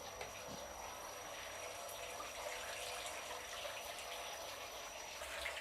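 Tap water runs steadily, rinsing grain being soaked for malt, a constant soft hiss and splash of flowing water at moderate distance, continuous with no break.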